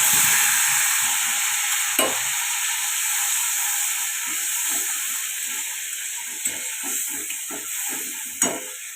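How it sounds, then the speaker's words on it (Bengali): Coriander leaf paste frying in hot oil in a wok with a dried chilli and black cumin, a steady close sizzle and hiss running throughout, with soft stirring scrapes and clicks, and no talk. "এবার আমি এর মধ্যে বাটাটা দিয়ে দেবো।"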